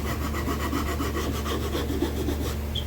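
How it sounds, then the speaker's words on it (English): A hand file rasps rhythmically across a wooden gun stock, shaping it with quick, evenly spaced close-up strokes that continue without pause. "Just gonna kind of fine tune it with this file"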